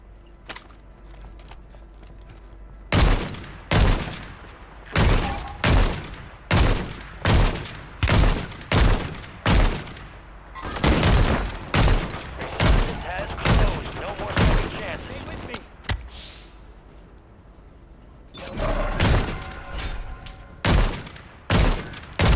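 Gunfire in the Call of Duty video game sounds as a series of loud, sharp shots in quick bursts and single cracks, close and repeated, with players talking between them.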